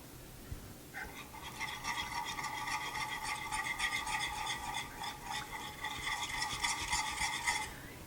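A spoon scrapes and stirs chocolate morsels melting into heavy whipping cream in a pan, a steady, close, rhythmic rasping that runs for several seconds with no talking.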